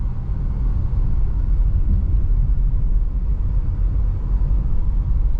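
A 2022 Audi e-tron GT Prestige electric car cornering on a road, heard from inside as a steady low rumble of road and tire noise, even and continuous with no voices.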